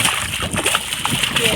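A rohu fish thrashes in a fishing net, throwing up choppy splashes and sloshing water at close range while someone talks over it.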